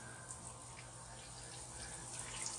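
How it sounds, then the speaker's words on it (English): Water running steadily from a tap in a garage, a faint continuous hiss and splash with no pauses. "I've got some decent water flow up in here"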